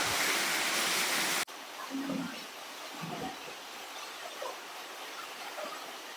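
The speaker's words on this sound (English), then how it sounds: "A 40-foot waterfall, and it's deep enough to plunge" A 40-foot waterfall at Stickle Ghyll in the Lake District gives a loud, steady rush of falling water that drops suddenly to a softer, closer splashing, with brief low sounds of movement near the water.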